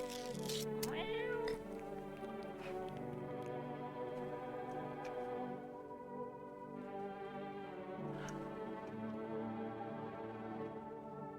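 A cat in a horror video game meows and caterwauls repeatedly, drawn-out tonal cries close by over a sustained background tone, with no talk.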